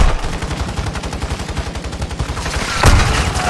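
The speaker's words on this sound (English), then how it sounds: "he shooting me through the wall with a submachine gun" Submachine gun fire rattles through a wall in a video game, a long rapid burst of sharp shots in tight rhythm followed by a louder impact near the end.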